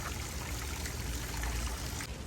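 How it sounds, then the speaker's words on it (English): Fountain with frog statues spraying water at each other at Port Orleans French Quarter Resort: a continuous outdoor splash and trickle of falling water, steady and fairly full throughout, heard alone without talk. "you can't go wrong with a fountain that has frogs shooting water at each other"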